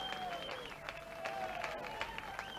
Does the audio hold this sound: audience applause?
yes